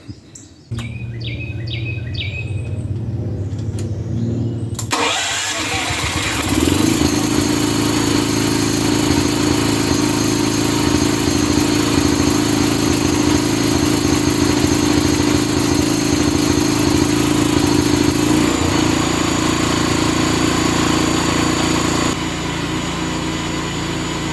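Birds chirp quietly before a Tomahawk 210 amp welder generator's engine cranks and catches, then settles into a loud, steady idle that runs on for about twenty seconds before shifting to a slightly lower tone.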